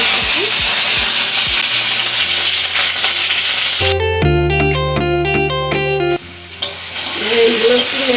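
Onions and chillies fry in a little oil in a kadai, with a hissing sizzle and rhythmic spatula clicks. Midway, a loud burst of tonal music briefly cuts in before the frying returns.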